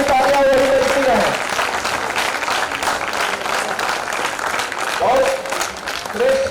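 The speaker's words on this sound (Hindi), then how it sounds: "दोनों हाथ उठा करके और मां के सम्मान में तालियां बजाइए" A large audience at a Hindi poetry gathering claps loudly and continuously, a dense sustained roar of applause with a voice speaking over it near the start and end.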